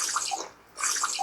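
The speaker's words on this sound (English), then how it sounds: "I need some water, so let's drink some water." Two quick gulping, splashing bursts of water being drunk in the survival game Stranded Deep, separated by a brief pause, close and fairly quiet.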